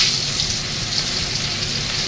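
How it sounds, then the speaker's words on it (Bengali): Pieces of katla fish, salted and turmeric-coated, sizzling in hot oil in a pan, a steady loud crackle held throughout with no speech. "আমার অলরেডি তেলটা গরম হয়ে গেছে। এবার আমি মাছগুলো ছাড়ছি।"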